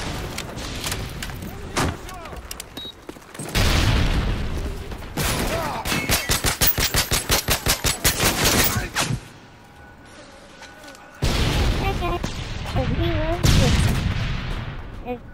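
Bursts of submachine-gun fire from a Modern Warfare 3 match, loud rapid rattling volleys that come in dense clusters with brief lulls between, mixed with other game explosions and effects.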